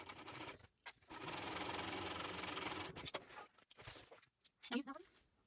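A sewing machine topstitches along the bottom of a fabric shoulder bag with a steady mechanical whir that starts and stops in short runs, while a person talks in between the stitching.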